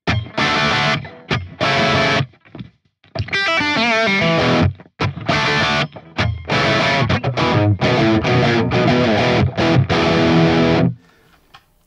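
A Valeton GP200 multi-effects unit set for a crunchy distorted electric guitar tone with reverb off, playing loud chords and riffs in bursts with short gaps, ending with a brief spoken line at the close.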